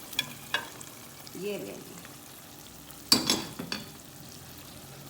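Chicken koftas drop into a pan of fried spiced masala, giving a steady sizzle with a few sharp spoon knocks and a louder cluster of scrapes near the end; someone speaks briefly in the middle.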